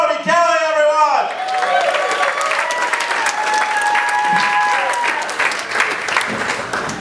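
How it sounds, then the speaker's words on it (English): Loud, sustained audience applause and cheering fills a comedy club as a comedian is welcomed to the stage, steady clapping with crowd noise throughout. "Round of applause for Brodie Kelly, everyone!"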